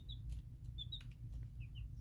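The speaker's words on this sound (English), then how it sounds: "Such a pretty little bird." Baby chicks in a brooder give a few thin, high chirps, scattered and fairly faint over a steady low hum.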